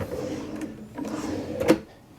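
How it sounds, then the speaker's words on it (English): A very large pull-out drawer in a cruise ship balcony cabin slides with a low rumbling glide, ending in a soft thump as it stops. "here we have the first of a very large pull-out drawer"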